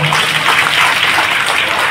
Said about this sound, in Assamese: দীঘলীয়া হাত তালিটা আমাৰ